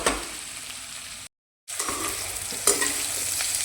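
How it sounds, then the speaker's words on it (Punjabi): Bitter gourds (karela) sizzle and fry in a pan while being stirred, a steady crackle broken by a brief silent gap, then resuming with a scraping stir. "ਆਪਾਂ ਕਰੇਲਿਆਂ ਨੂੰ ਇਦਾਂ ਹਲਾਉਂਦੇ ਵੀ ਰਵਾਂਗੇ ਨਹੀਂ ਤਾਂ ਕਰੇਲੇ ਜਿਹੜੇ ਥੱਲੇ ਜਲ ਜਾਣਗੇ"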